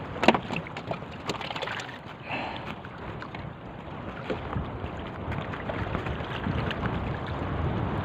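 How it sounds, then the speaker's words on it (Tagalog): Strong wind gusts buffet the microphone in a continuous rough roar while out fishing on the water, with occasional knocks and water sounds, no talking. "lumalakas na talagang hangin"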